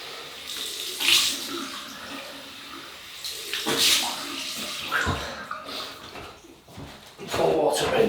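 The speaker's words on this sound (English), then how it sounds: "Let's cold water rinse." Cold tap water runs into a sink for a rinse after a shave with a Parker adjustable safety razor, splashing in uneven bursts that swell and fade, with a few louder gushes.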